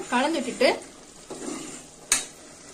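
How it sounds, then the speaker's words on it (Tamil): Mutton keema masala, Chettinad style, gets stirred in a pan: a few short scraping and clinking strokes of a spoon against the metal over a faint sizzle, with a sharp clink near the end. "சேர்த்து இது நல்லா கலந்து விடுங்க"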